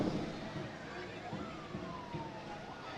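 An ambulance siren wails steadily in the distance during a street parade in Saskatoon, drifting up and down in pitch beneath constant crowd noise and scattered voices.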